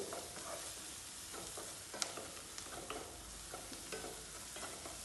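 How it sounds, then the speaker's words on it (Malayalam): Sliced onions fry in a pan for a mixed vegetable curry, a soft steady sizzle broken by scraping stirs and light clinks of a spoon, close and quiet with no voices. "സവാള ഇങ്ങനെ ചോന്ന് വരുന്നുണ്ട് ചോന്ന് വരുന്നുണ്ട്"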